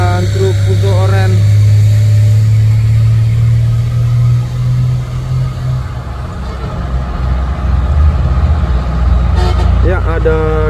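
An orange Fuso truck's engine rumbles nearby, loud at first and then fading, with a brief horn toot and other traffic noise behind it.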